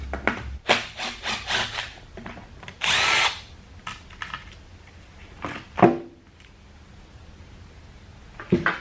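T25 Torx bolts backed out of the solenoid pack on a 68RFE transmission valve body, short whirring bursts of a power driver with small clicks and metallic taps between, close up.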